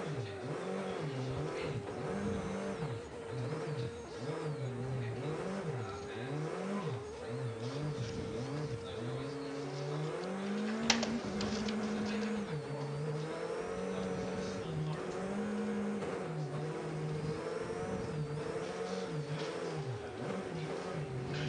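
Rally car on snow tyres in a winter stage of the Monte Carlo Rally, its engine revving hard and rising and falling through gear changes as the wheels lock under braking, loud and continuous with a sharp knock partway through.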